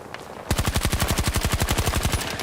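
Sustained automatic gunfire from a video game shooter with an LMG and an assault rifle: a loud, rapid, evenly spaced burst of about twenty shots that starts abruptly and runs for two seconds with no talk.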